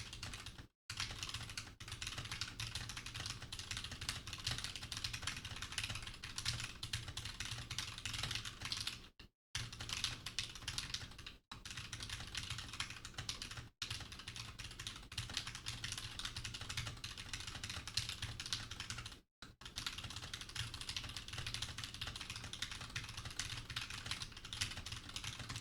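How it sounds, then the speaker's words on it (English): Fast, steady typing on a computer keyboard, a dense continuous stream of clicks at close range with a few brief pauses, no talking. "My typing has gotten fucking crazy over the past, really, since I started doing programming"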